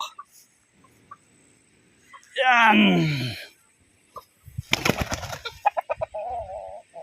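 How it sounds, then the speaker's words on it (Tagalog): A chicken gives a loud drawn-out squawk, followed by a burst of flapping and a run of short clucks, with a voice speaking briefly. "balik kulungan na ang ating manok"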